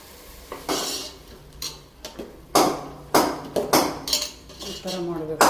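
A spoon stirs ground masala into a hyacinth bean curry in a pan, giving a series of sharp, close metallic scrapes and clinks in an uneven rhythm with faint sizzling beneath.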